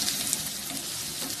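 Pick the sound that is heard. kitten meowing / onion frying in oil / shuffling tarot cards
onion frying in oil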